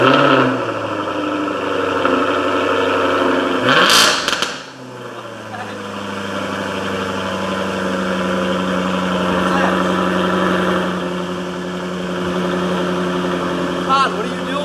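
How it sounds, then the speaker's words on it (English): A 2019 Toyota Camry XSE V6 fitted with a MagnaFlow exhaust starts with a short cranking burst, then settles into a steady, even idle with a low exhaust drone, while voices talk over it. "let's go ahead and start it up so you can listen to that MagnaFlow exhaust"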